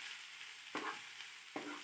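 Shredded cabbage frying with chicken and vegetables in a pan for a lasagna filling, a steady bright sizzle with two distinct scraping stirs about a second apart, close and faint, no voices.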